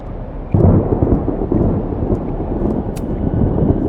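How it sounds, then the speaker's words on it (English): A thunderstorm in the video game Life is Strange Double Exposure: a deep, rolling thunder rumble swells in early over a constant wash of rain and wind, with a few faint crackles near the end. "the storm's not so bad here."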